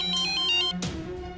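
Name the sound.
mobile phone ringtone ringing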